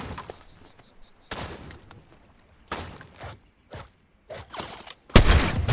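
Gunfire in the video game Fortnite comes as several sharp, separate bursts with quiet gaps between them, ending in a louder, denser volley.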